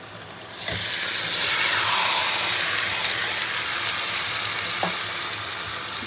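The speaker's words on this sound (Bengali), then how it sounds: "এবার আমি ম্যারিনেট করে রাখা মাংসটা দিয়ে দেবো" Marinated meat hits a pan of well-fried onions with a sudden loud, close sizzle that swells and holds steady, then eases slightly, with a soft stirring knock partway through.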